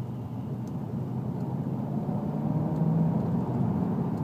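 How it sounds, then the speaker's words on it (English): Low, steady engine drone from a 2012 Jaguar XF with a naturally aspirated engine while driving, a deep rumble heard from inside the car that swells slightly toward the end, with no talking. "You get a very nice and potent and powerful sounding engine noise."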